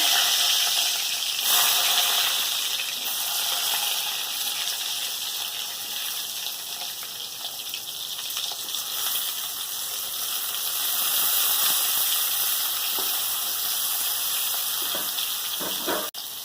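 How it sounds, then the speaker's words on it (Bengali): A steady, loud hiss of salted, turmeric-coated eggplant slices frying in hot oil runs throughout with little variation, no talking. "নুন হলুদ মাখিয়ে রাখা বেগুনগুলো এবার ভেজে নেব।"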